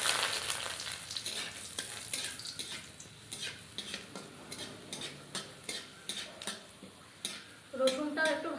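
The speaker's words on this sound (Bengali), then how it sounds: "রসুনটাও একটু ভাজা ভাজা হয়ে গেল" Garlic cloves sizzle in hot oil in a wok after dried chillies have been fried out, with a steady close crackle broken by repeated scrapes and clinks of a spoon against the pan and a louder clatter near the end.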